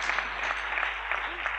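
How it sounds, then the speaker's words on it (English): Steady applause from an audience after a talk, a dense wash of clapping hands throughout. "You can clap now if you want."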